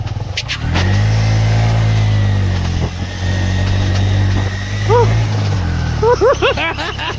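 Car climbing a hilly ghat road in second gear, its engine straining in a loud, sustained rev that dips and surges, with people talking and short chirping sounds toward the end.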